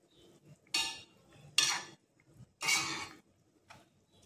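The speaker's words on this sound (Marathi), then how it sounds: "आता हे व्यवस्थित आपल्याला परतून घ्यायचे आहे" Ground masala paste being sautéed in a pan, heard as scraping, clinking spatula-on-pan strokes in several loud bursts with quieter sizzling between them.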